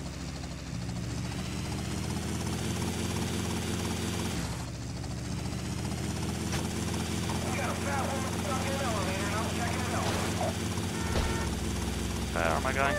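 A helicopter in GTA: Vice City lifts off, its rotor and engine a constant close drone that swells slightly partway through, with a voice talking over it.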